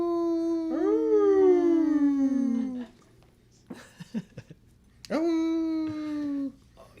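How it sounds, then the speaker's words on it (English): A dog howls in two long rising-and-falling bouts, with a few short yips between them, close and fairly loud, and no talking inside the sound. "Sounded like a coyote yip."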